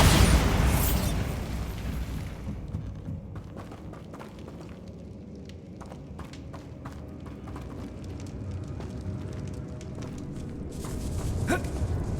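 A Bombarda spell explosion in Hogwarts Legacy opens with a loud booming blast that rumbles and decays over a couple of seconds, followed by quieter scattered crackles, footsteps and clatter, with another sharp burst near the end.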